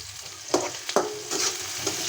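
Chopped onions with salt lightly frying in a pan, a soft sizzle broken by a few sharp spatula scrapes and knocks.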